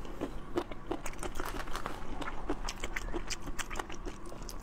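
Close-up eating of marinated shrimp dressed in vinegar and garlic sauce: repeated crunchy bites and wet chewing at an irregular rhythm, with no talking.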